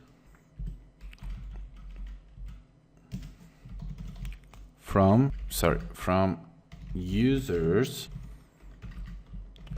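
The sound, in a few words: typing on a computer keyboard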